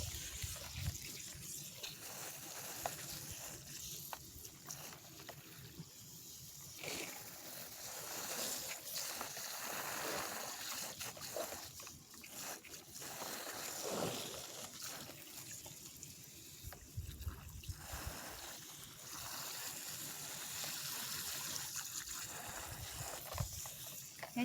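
Water gushes and sprays steadily from a leaking valve on a farm irrigation filter with loose packing, a continuous broadband rush under pressure that runs throughout.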